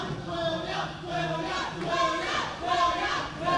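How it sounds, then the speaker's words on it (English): Crowd at a video game tournament, a roomful of voices cheering and shouting in repeated swells, fairly loud and close, with an excited group chant rising and falling. "We can hear in the crowd, William has all his supporters."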